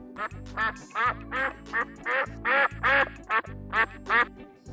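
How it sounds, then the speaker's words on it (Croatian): A duck quacks repeatedly in quick, rhythmic bursts, loud and close, over a low steady hum. "zadnja životinja na našoj farmi, koja je vrlo slična kokoši, je patka"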